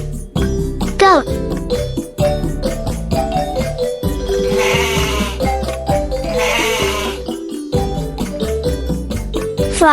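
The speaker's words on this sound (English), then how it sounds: "goat" A goat bleats in a couple of wavering cries that stand out over a steady, upbeat backing tune, set among farm animal sounds.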